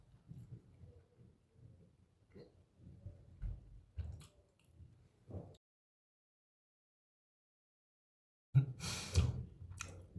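Someone eats and chews food close to the microphone: soft, irregular wet chewing and biting noises with breaths over several seconds, then a pause of silence before louder mouth sounds and rustling return.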